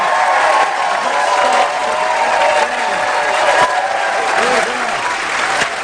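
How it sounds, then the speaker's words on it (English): Studio audience applause on a comedy improv show, loud and sustained clapping from a large crowd, close and full, with a voice speaking briefly over it. "I could certainly listen to your applause all night."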